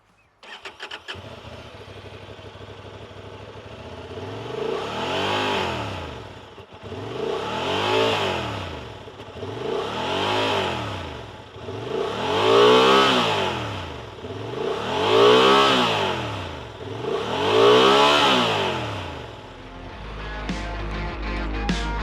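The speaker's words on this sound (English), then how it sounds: "listen to the exhaust note of this motorcycle" A 2024 Honda XL750 Transalp motorcycle engine revs repeatedly, the exhaust note rising and falling in about seven regular swells, loud and close, with a short burst at the end.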